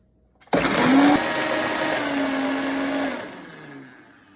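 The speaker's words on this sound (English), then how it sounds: "So now we're just going to grind it up and we're going to fry it." A blender starts abruptly and grinds keto tortilla ingredients with a loud whirring motor and a steady hum that dips in pitch as the load bites, then winds down near the end; no talking.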